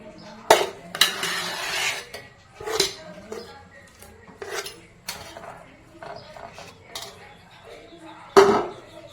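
Dishes and utensils clattering as dough is moved onto a plate in a home kitchen, several sharp close clinks and knocks spaced irregularly among quieter handling sounds.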